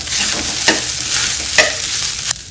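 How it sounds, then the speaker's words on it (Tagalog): Rice being quick stir-fried in a pan: a continuous close sizzle broken by a few sharp scraping stirs of the utensil against the pan. "Parang ano lang, quick frying, stir frying."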